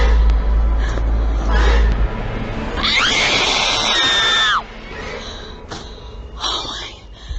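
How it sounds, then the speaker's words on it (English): A woman lets out a shrill, sustained scream of terror lasting over a second, loud and piercing, with rumbling noise and shuffling before and after it and brief faint voices nearby. "her scream there literally blew my eardrums"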